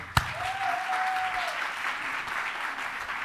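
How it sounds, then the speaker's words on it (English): An audience at a leadership and management congress gives a round of applause, a sustained, even patter of many hands filling the hall, opened by a sharp knock and briefly overlaid by a faint tone. "we need a round of great applause"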